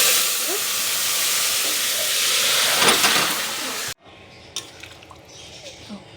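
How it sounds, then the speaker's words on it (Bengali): Panch phoron and bay leaves hit hot oil in a kadai with a loud sizzle and steamy hiss. The sizzle breaks off abruptly partway through and gives way to quieter clinks of a pot and faint frying. "আর দেখো পাঁচফোড়ন আর তেজপাতা দুটো দিয়ে দিলাম।"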